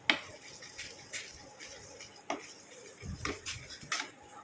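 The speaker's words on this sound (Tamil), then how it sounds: "இப்போ தக்காளி விழுதை நல்லா அந்த மாதிரி கலந்து விட்டுக்கிட்டே இருங்க." A spoon stirs tomato paste in a pan on the stove, giving irregular scraping clinks and taps of metal against the pan, close and fairly loud, with quiet gaps between strokes.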